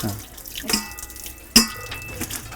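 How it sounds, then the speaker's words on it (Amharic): Water pouring and splashing as cooked macaroni is drained in a kitchen, a steady running-water wash with two sharper splashes partway through, close and fairly loud. "መኮረኒያችንን እናጥላ።"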